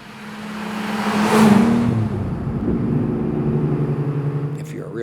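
A Ferrari 275 GTB engine revving up, the pitch climbing and swelling to a peak before settling into a steady throbbing drone as the car drives on, with someone talking over it.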